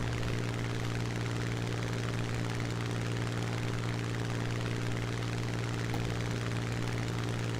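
A propeller-driven fighter plane in War Thunder gives off a steady, loud, unbroken engine drone with a strong low hum, with no pauses throughout.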